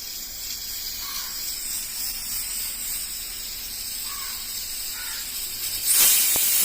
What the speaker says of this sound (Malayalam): കുക്കറിൽ സ്റ്റീം വന്നിട്ടുണ്ടെങ്കിൽ നമ്മൾ കുക്കർ ഓഫ് ചെയ്യുക